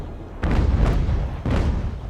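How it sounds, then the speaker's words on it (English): Ship cannons fire grape shot in the naval game Ultimate Admiral: Age of Sail, two heavy booming volleys about a second apart, each with a rumbling tail, loud and without voices. "We'll try and use some grape shot on her now."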